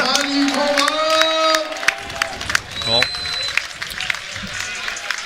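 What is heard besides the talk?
crowd applauding at the Cabourg hippodrome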